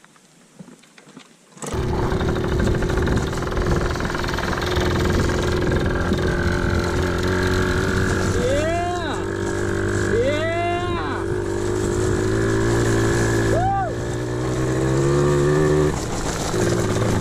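Pit bike engine running steadily close by on a ride in Datto, Arkansas, a loud continuous drone with a few rising revs as the throttle opens; it starts abruptly after a short quiet lead-in and keeps going to the end.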